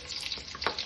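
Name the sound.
onions added to hot oil, frying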